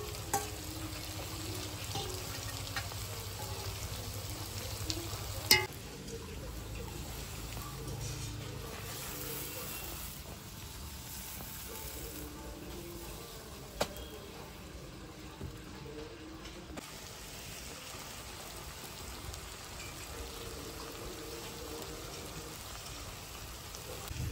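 Small kechki fish frying in a pan for patouri, a quiet continuous sizzle and patter of oil with occasional clicks of utensils throughout.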